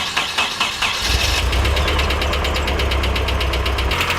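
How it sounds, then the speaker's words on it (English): A car engine, sounding like a Cummins turbo diesel, catches after a few uneven chugs and settles into a loud, steady, rough idle with a rhythmic knocking pulse, close up and heard alone. "That sounds like a Cummins turbo diesel"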